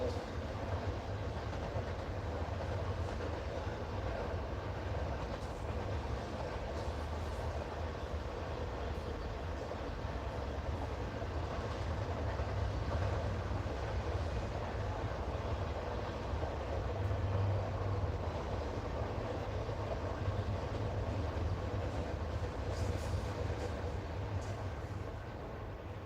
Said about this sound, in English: Hope you guys like the sound of train noises.